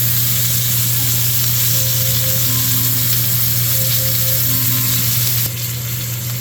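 Butter sizzles steadily and loudly in a hot cast iron pan set for searing steak, a continuous close frying hiss with a faint steady hum beneath and no talk.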